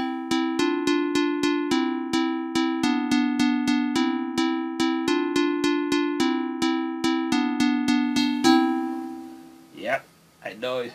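Plucked melodic synth patch from an FL Studio plugin, the kind used in Tanzanian bongo flava and Afrobeat, playing a steady run of bright repeated notes for about eight seconds, then a voice talks over a fading tail.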